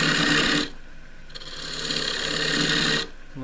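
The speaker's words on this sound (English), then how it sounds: "just pivot the tool into the wood." A 1/2 inch spindle gouge cutting into a spinning wooden bowl blank on a lathe, bursts of dense hissing shaving noise separated by a quieter pause, close and loud.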